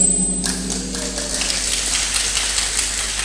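Rain falling at an outdoor gathering, a steady wash of drops and light patter. A brief tone sounds at the very start and faint background voices come through.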